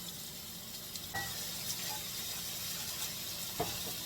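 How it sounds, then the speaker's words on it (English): Chopped jarred garlic sautés in a pan with a soft, continuous sizzle, quiet and close, with a few faint clicks and scrapes of stirring now and then. "And just let those saute till they get translucent"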